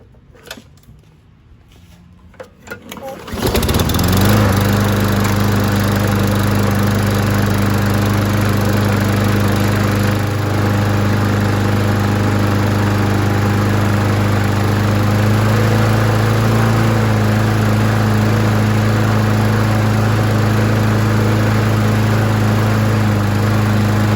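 A 2008 Troy-Bilt 190cc lawn mower engine, left outside for two years and just given a rebuilt carburetor and cleaned tank, starts on the first pull after a few seconds of quiet and then runs steadily and loudly up close.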